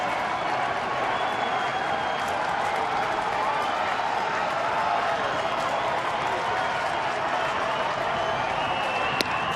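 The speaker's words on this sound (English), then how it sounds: "Crowd that has remained here getting into it." Baseball crowd at Comerica Park roaring steadily after a home run, a dense sustained wash of cheering and applause with a brief sharp clap near the end.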